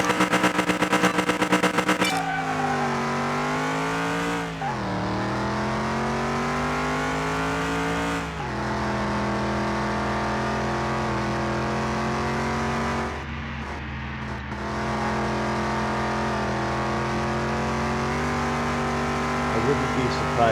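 A car engine in the video game Car Mechanic Simulator 2021 races along, its tone climbing and dropping through gear changes for about twenty seconds, kept at a moderate level, with a short scuffling patch near the end.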